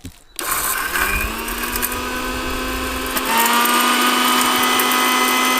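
A kitchen mixer grinder whirs loudly and steadily as it grinds dry fallen leaves, its motor pitch stepping up partway through as the load shifts.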